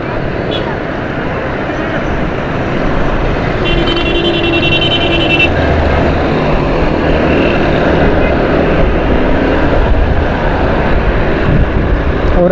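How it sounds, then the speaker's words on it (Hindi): Motorcycle riding through busy Karachi streets, a steady engine drone with road and wind noise close up, other traffic passing, and a brief horn-like tone partway through. "थोड़ा मोटरसाइकिल तेज़ चलानी है"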